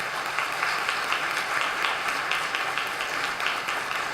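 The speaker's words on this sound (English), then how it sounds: "give them all the candidates, one more round of applause" Audience applause for candidates at a county candidate forum, an even, continuous rush of many hands clapping at moderate loudness with no talk over it.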